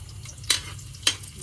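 Garlic sautéing in a pan for adobong kangkong, with a steady soft sizzle and two brief bright scraping stirs, close and fairly quiet.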